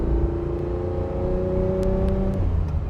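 A 1967 Ferrari 330 GTC engine pulls smoothly and loudly from close by, with a steady tone that holds, then drops as a gear changes near the end.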